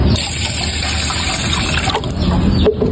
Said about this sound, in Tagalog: hugasan natin na 2 beses para matanggal yung mga germs